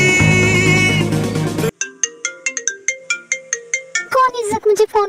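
A mobile phone ringtone plays as a bright, repeating melodic chime of short tones, loud and close, following a burst of music with singing.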